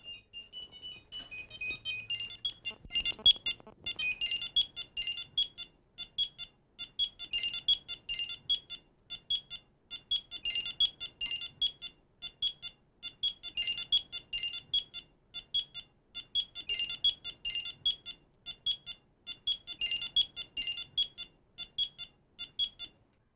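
A mobile phone rings with a bright electronic ringtone, repeating in regular bursts of rapid beeping notes for a long stretch, loud and clear with a near-silent background.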